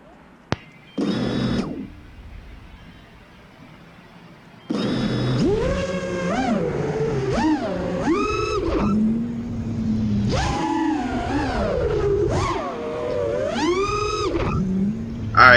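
An FPV quadcopter with a Matek F405 flight controller flying: motors whine after a brief burst, then settle into a sustained buzzing drone that swoops up and down in pitch with throttle changes, close and loud, no voices.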